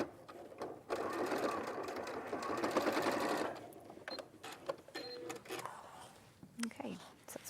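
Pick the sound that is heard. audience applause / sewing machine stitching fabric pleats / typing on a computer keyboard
sewing machine stitching fabric pleats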